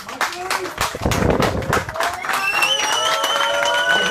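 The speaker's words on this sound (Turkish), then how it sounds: "Hadi alkış bak Arif Usta'ya hadi." A crowd of football fans claps and calls out, with dense applause and shouting voices rising in the middle and a sustained whistle-like tone running underneath toward the end.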